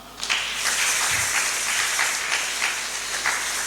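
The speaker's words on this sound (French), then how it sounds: "On acclame." Church congregation applauding, a steady dense wash of many hands clapping throughout, fairly loud and close.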